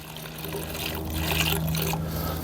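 Thatch Buster lawn liquid trickles and pours into a large measuring cup, a soft continuous dribble close by with faint background hum.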